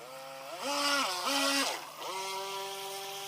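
Skytech H100 RC boat with a brushed motor whining as it accelerates, pitch rising and falling in short bursts then holding steady, heard at a distance over faint background.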